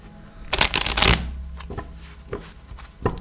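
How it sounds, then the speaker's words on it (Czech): Tarot cards are shuffled by hand in a quick burst of riffling, followed by a few softer taps and slides as the deck is handled, close and clear. "Já se tady už jenom zamíchám karty"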